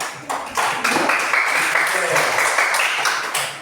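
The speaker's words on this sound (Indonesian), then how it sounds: "sekali lagi kita tepuk tangan dulu untuk kelompok daun" A classroom group of students claps together for a team of classmates, a dense burst of applause lasting a few seconds, close and fairly loud, fading out at the end.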